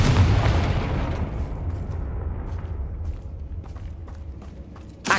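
In Hogwarts Legacy, the Confringo spell blasts into a loud, booming explosion with a deep rumbling tail that slowly fades, followed by scattered small crackles and a faint pop at the end.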